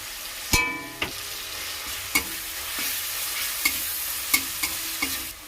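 Garlic and onion paste sizzling in a hot pan for egg ghugni, a steady frying hiss with several sharp stirring clacks spaced through it, close and alone without talk.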